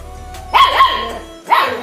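A 30-day-old German Shepherd puppy yaps sharply a few times in quick bursts, close by, with short pauses between the barks.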